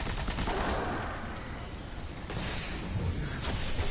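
Sustained gunfire from a shooting Knight enemy in the video game Destiny, a loud, dense barrage of rapid shots that continues throughout with brief shifts in intensity, no talking.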